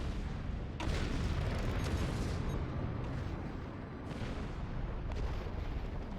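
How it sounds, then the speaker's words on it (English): Explosions from a bombing run in a Star Trek video game, a dense continuous roar of booms and rumbling blasts with a few sharper onsets, loud and sustained. "the bombing should end quickly thanks to the Enterprise. We're gonna need to move fast once things stop exploding."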